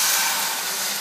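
A hot pot plunged into a sink of cold water gives off a loud, steady steamy hiss that fills the whole moment without pause.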